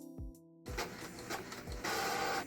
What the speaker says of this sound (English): And here we go, is my little printer.